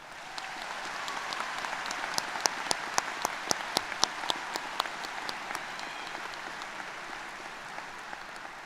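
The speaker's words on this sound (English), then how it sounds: "Please give a round of applause for all of our special guests." A crowd at a high school commencement claps for special guests, a steady applause with sharp individual claps standing out, fading slightly toward the end.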